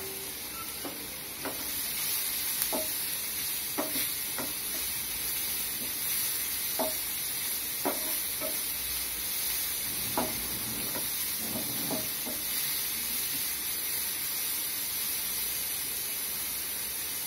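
Grated carrots sautéing in a pan for carrot halwa, a steady hiss of frying running throughout with occasional soft spoon taps and scrapes breaking through, close and even in level, no talking.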